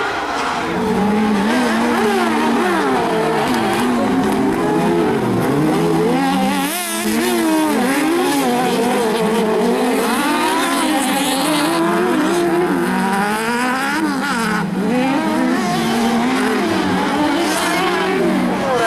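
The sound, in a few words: stock car race, Fiat 500 cars racing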